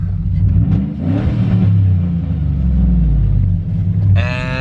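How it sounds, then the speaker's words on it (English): An engine rumbles loudly close by and revs up and down in a few swells, with a brief higher whine near the end. "Give her a old rev tune real quick"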